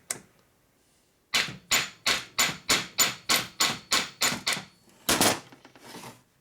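A hammer strikes a 1942 Harley-Davidson WLA 45ci flathead transmission part in a steady run of about eleven sharp, close metallic whacks, then a brief pause and one final heavier double blow.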